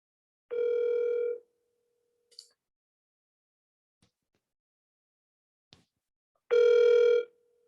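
Two long telephone ringback tones sound several seconds apart on a call waiting to be answered, with faint clicks and near silence between them and no talk.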